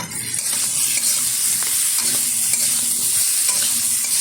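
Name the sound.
stirring elephant foot yam stalks and potatoes in oil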